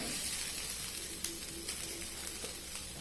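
Grated coconut fries in a pan with cut chilies, a faint, steady sizzle with a few soft stirring taps and no talking.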